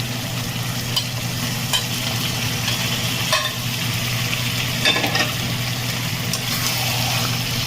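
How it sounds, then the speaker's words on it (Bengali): Pre-fried chicken pieces sizzle in a pan of cooking spices, a steady frying hiss marked by a few clinks and scrapes from stirring, with a low hum running underneath. "ভেজে রাখা চিকেনটা দিয়ে দেবো।"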